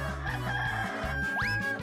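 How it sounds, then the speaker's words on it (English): A rooster or chicken calls close by, a short rising cry over a steady low hum. "The chicken's hungry."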